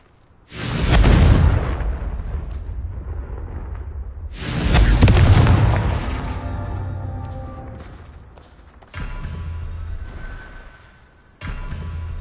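Two big Confringo blasting-curse explosions in Hogwarts Legacy, each a loud booming burst that rumbles and fades over a few seconds, followed by softer impacts and game effects.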